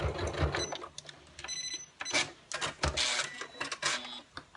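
A sewing machine stitches a pencil case, reversing and then running forward again in short, rapid bursts of needle chatter with brief pauses between runs, heard close and fairly quiet.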